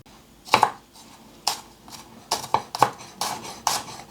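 A knife cuts a thumb-sized piece of garlic, skin on, into fine pieces on a chopping board: sharp, close taps in an irregular series of about ten strikes, with no talking.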